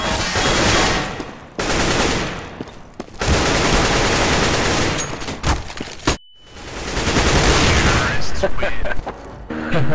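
Loud, close gunfire in CS:GO comes in dense bursts of rapid shots, broken by a few short silences, with a voice talking over parts of it.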